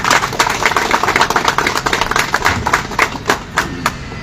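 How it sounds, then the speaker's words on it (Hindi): Dense, steady applause from an audience at a motivational business meeting, many hands clapping together for the whole stretch, loud and close with no break. "इस संकल्प के लिए जोरदार तालियां होनी चाहिए।"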